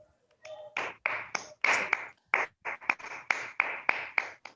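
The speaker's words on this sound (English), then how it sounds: "Please give him a big round of applause." Small-group applause at a club meeting, a few hands clapping in sharp, separate bursts, close and fairly quiet, stopping and starting for several seconds without talk.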